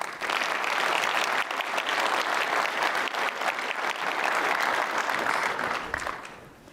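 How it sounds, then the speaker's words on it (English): A conference audience at GDC 2023 applauds a CTO taking the stage, a loud, dense burst of many hands clapping that holds steady and then tapers off near the end. "I would like a big round of applause for Justin Larrabee"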